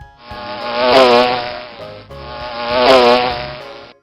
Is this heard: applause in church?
no